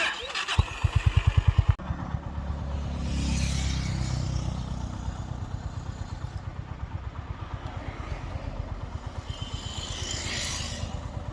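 Royal Enfield Bullet motorcycle riding along a road near Kodaikanal, the engine thumping in a steady, close, rhythmic beat through the whole stretch under wind rush, with a brief louder burst at the start.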